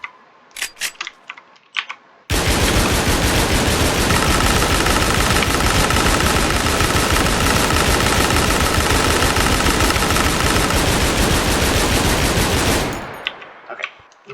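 An automatic weapon in the video game Warium fires one long, unbroken burst of rapid, loud, close shots that lasts about eleven seconds, with a few short clicks and mechanical noises before and after it.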